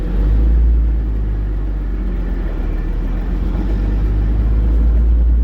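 A 2nd Gen Cummins diesel pickup with a manual gearbox rumbles loud and close from inside the cab, a deep steady engine drone with slight rises and dips as it drives and shifts, and no talk.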